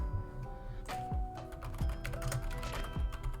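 Keystrokes clatter on a computer keyboard in quick, uneven bursts of clicks, close and fairly quiet, with no voices over them.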